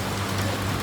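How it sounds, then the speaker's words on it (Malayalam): Heavy rain falls as a steady, dense hiss with no separate drops standing out, close and unbroken for the whole short moment, with no voices. "നല്ല മഴ, നല്ല മഴ."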